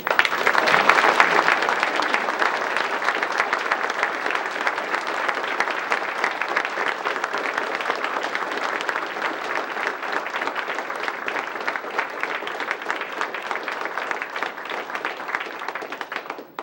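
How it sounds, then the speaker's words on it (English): Sustained audience applause for veterans who presented the colors at an opening session, a dense steady wash of many hands clapping that holds evenly for the full length before fading slightly at the end. "give them a round of applause"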